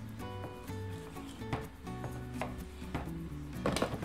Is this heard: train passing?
no